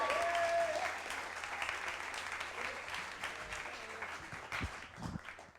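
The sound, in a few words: audience applause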